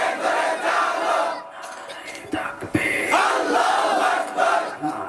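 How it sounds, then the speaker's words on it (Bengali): A large crowd at a religious rally roars a slogan in unison, a dense surging wall of shouting voices that swells, dips briefly, then rises again, loud and close. "সব শক্তি কণ্ঠের কাছে এনে আমার মালিকের স্লোগান দাও, নারায়ে তাকবীর, নারায়ে তাকবীর"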